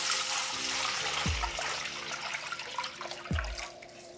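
Drinking water splashes into a pot, about ten liters, as a close, steady rushing pour with two heavier sloshing thumps partway through and no talking.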